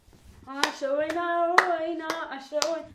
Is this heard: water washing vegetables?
no